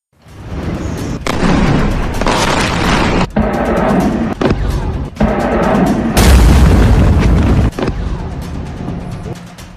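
Bombs burst over Iranian cities near Hormuz as a loud, continuous run of heavy booms and blasts, one larger deep explosion rising out of the dense rumble.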